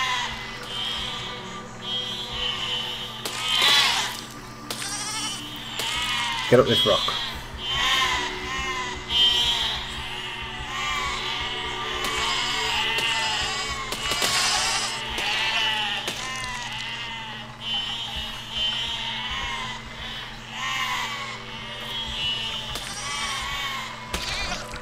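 In the game Besiege, a flock of sheep keeps up a dense, steady chorus of wavering bleats. Sharp mechanical knocks cut through in places, and someone speaks briefly over the noise.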